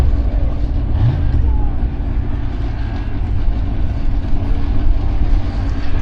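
Drag racing cars launch at Santa Pod Raceway, a steady loud low engine roar filling the whole stretch with a brief rising rev near the start, heard from a distance over crowd ambience.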